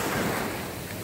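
Surf breaks steadily on a beach at Talaan, a close, continuous wash of rushing water with wind buffeting the microphone and no voices.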